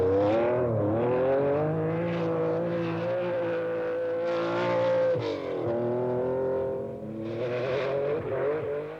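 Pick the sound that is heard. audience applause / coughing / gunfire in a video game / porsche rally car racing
porsche rally car racing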